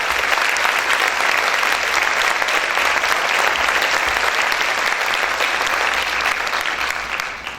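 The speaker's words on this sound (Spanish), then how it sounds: "Ese aplauso es para el Señor, déselo fuerte." A church congregation gives loud, sustained applause, a dense continuous clapping that fills the space and fades slightly at the end.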